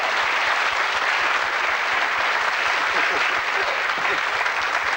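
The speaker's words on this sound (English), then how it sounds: "Give them a round of applause, folks." A studio audience at a 1979 television game show applauds warmly, a thick, continuous roar of clapping that stays loud and level from start to finish.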